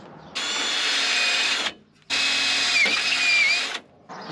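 A power tool drives panel fasteners on a 1953 Kenworth Pacific bus, in two long, loud whirring bursts with a short pause between them and a third starting at the end, the pitch wavering slightly as each fastener tightens.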